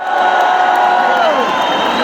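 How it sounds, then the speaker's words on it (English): A large crowd at M. Chinnaswamy Stadium in Bengaluru cheers and whoops at an RCB unbox event, a steady, loud roar of voices throughout. "let's give him a big cheer once again, please"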